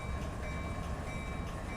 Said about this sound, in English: So I got this mixed manifest train leaving out of Barstow